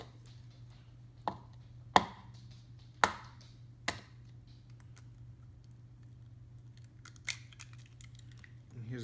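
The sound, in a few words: cracking eggs for an omelet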